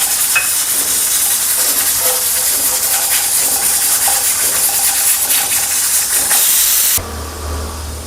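Grated coconut roasts in a hot pan while palak chicken is being cooked. A loud, steady sizzling hiss runs for several seconds, then drops suddenly to a softer sizzle over a low hum.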